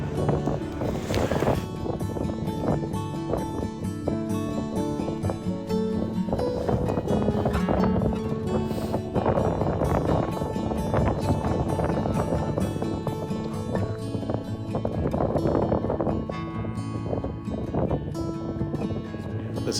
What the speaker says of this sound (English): The wind up here continues to blow pretty hard and definitely cold.